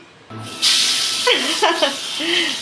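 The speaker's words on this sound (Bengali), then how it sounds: "এখানে অনুষার বাবা হচ্ছে গিয়ে মাছ ভাজি করতেছে" Fish fries in hot oil. A loud hiss bursts in suddenly and settles into a steady, close sizzle while a voice talks over it.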